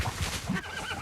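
A horse on a farm in Minas Gerais, Brazil, gives a brief, breathy neigh, faint and somewhat distant against a noisy outdoor background.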